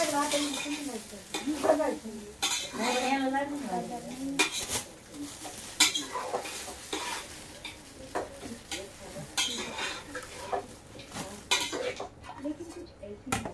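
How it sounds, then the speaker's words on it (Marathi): Chicken curry cooking in a pan after tempering, with repeated metal spoon scrapes and clinks against the pan over a low sizzle, irregular and close, while a voice briefly speaks at times. "मस्तपैकी असं चिकन मी शिजू घातलेलं आहे. आता फोडणी दिलेली आहे."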